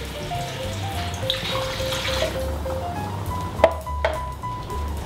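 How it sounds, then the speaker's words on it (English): Water, 300 ml, is poured into a pot of chicken curry simmering in spice paste. A steady splashing pour sits over a low background hum and ends with a couple of sharp clinks, with no talking. "So now let's add 300 ml of water."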